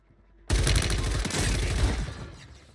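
Gunfire in Warzone 3 breaks out suddenly after a quiet moment: a loud, close burst of rapid automatic shots that keeps rattling for about two seconds before tailing off.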